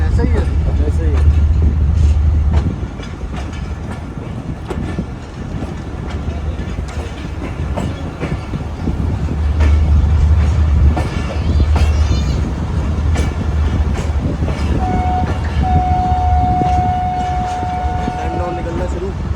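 The Bolan Mail passenger train running from Sehwan to Karachi, a loud rolling rumble with rhythmic clatter and surges, a long horn blast near the end, and voices talking throughout.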